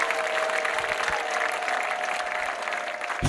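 A church congregation claps together in sustained, steady applause that fills the room evenly from start to finish, with no voices rising above it.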